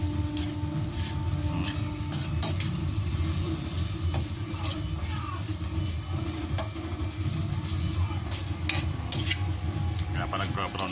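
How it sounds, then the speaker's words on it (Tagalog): Bamboo shoots with salt and pepper are stirred in a pan for adobo, with a steady sizzle and repeated scraping of the utensil against the pan, close up. "Halu-haluin natin para maano yung asin sa paminta mga idol."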